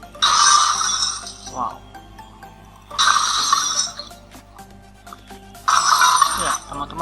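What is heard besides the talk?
small crash sound effect of breaking glass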